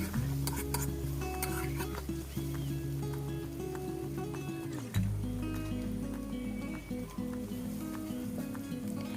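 A spatula scrapes and stirs chili powder, turmeric and chopped tomato in a metal pan for restaurant-style egg curry. Repeated clinks and scrapes sit over a loud, steady low hum and a soft sizzle.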